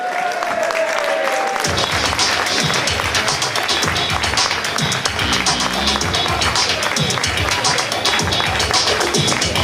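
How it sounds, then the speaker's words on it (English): Sustained audience applause at an under-16 football presentation night, a dense steady clapping from a crowd that carries loudly and evenly for several seconds after a brief quiet opening. "A big round of applause for Andreas Cockanoe."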